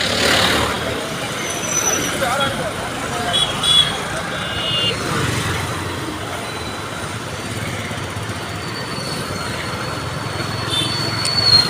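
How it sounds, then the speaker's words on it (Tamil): Busy road traffic at a market area, with a steady broadband roar of many vehicles passing close by and a brief horn-like tone, while people talk over it throughout. "எவ்வளோ வண்டி வருது பாருங்க"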